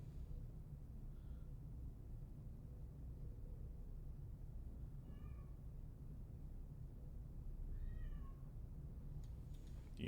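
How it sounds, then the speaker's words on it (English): A pet cat meows softly indoors, three short separate calls spaced several seconds apart, faint over a constant low hum and background rumble. "Do you hear my little meowing princess?"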